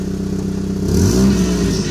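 A green Honda Accord with 118,000 miles idles close up, a steady low engine hum with a slight rise partway through, loud and alone.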